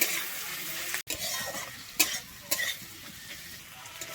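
Onion, ginger and garlic frying gently in a pan for a Bengali chicken stew, a steady close sizzle with occasional stirring scrapes and a few sharper clinks of a utensil against the pan.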